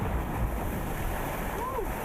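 Ocean surf rolling and crashing at the southernmost point of the Florida Keys during Hurricane Ian, a loud continuous roar of waves mixed with heavy wind buffeting the microphone.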